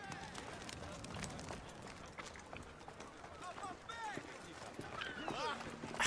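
A horse gallops in Assassin's Creed Odyssey with rapid hoofbeats, heard under speech and other game sounds.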